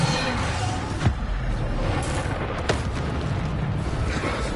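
Explosion spell cast in a Hogwarts wizarding video game, heard as a few muffled booming bursts spaced over a steady rumbling game background.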